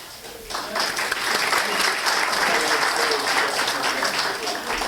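An awards ceremony audience applauds guests with steady, dense clapping that swells quickly and stays loud, with some voices audible among the crowd.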